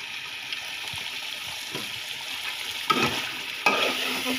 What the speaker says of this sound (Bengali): এটাকে এখন নাড়িয়ে চাড়িয়ে নিচ্ছে।